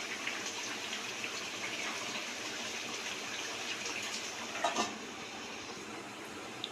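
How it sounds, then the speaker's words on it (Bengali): Rui posto fish curry simmers in a covered pan, making a quiet, continuous bubbling hiss with one brief clatter partway through. "এবার আমি ঢাকা দিয়ে আরও 2 থেকে 3 মিনিট ফুটিয়ে নেব।"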